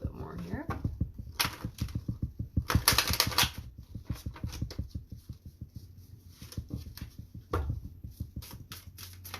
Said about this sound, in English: I need to sort of shuffle the cards a little bit more here